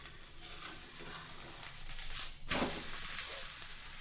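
Dosa batter sizzles and fries on an oiled griddle stone, a steady close hiss that flares sharply for a moment, with no voices over it.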